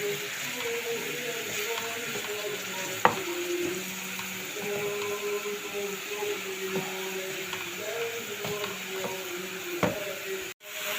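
A spoon scrapes and stirs a pasta filling mixture with pepper and spices in a pan, with a steady soft sizzle and a couple of sharp clinks against the pan.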